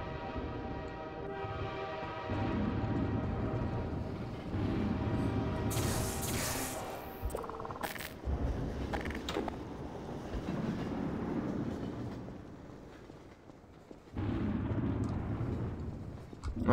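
Rumbling train noise from Half-Life 2: Episode One, with a steady low rolling drone and a loud bright horn or hiss burst midway, then surging again near the end; no talk heard.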